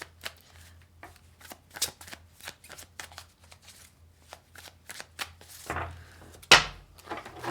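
Tarot cards riffle and slap in a quick run of crisp shuffles, close and fairly quiet, ending with a couple of sharper taps.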